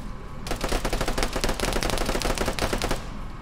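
Rapid bursts of automatic gunfire from a military video game fill the clip, loud and continuous, with dense volleys of shots that carry on for about two and a half seconds before cutting off.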